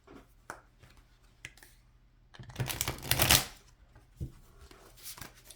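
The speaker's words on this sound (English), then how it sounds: "I'm just going to shuffle it a bit for you." A Light Seers tarot deck being shuffled by hand: a dense burst of riffling card clatter lasting about a second, set between scattered soft taps and handling sounds, close and moderately loud.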